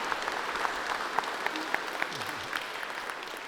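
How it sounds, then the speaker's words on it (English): Audience applause for the teams at a live coding cohort presentation night, a distant, fairly quiet wash of clapping with a few sharper individual claps standing out. "Another round of applause."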